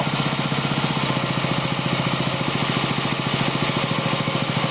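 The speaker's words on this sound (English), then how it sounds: "Look at how low the idle goes on this machine." The Subaru engine on a flood-damaged Ridgid pressure washer idles low and unloaded, a close, loud, steady chugging with rapid even pulses.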